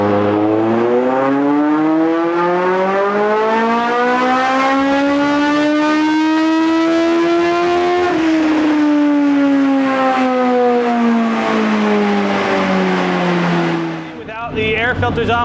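A car engine without air filters revs hard on a dyno, a loud close wail climbing steadily in pitch, peaking, then winding back down before cutting off abruptly.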